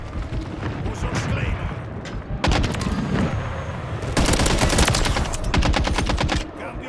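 Rapid automatic gunfire in the video game Call of Duty: Modern Warfare 3, sustained bursts that rattle on for several seconds, loud and close.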